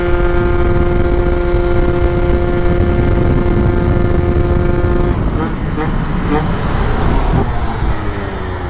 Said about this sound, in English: It definitely sounds like it got a little bit more rev out of it now too, changing that up.